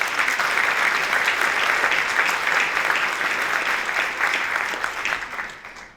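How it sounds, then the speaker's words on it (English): Sustained applause from a large audience at a university State of the University address, steady dense clapping throughout that tapers off at the end. "let's give them a round of applause"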